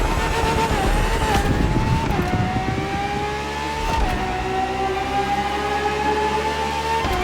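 Ferrari FXXK track-only race car engine in the game The Crew Motorfest: a loud, high-pitched engine screaming at sustained high revs, with brief dips at each gear shift before climbing again.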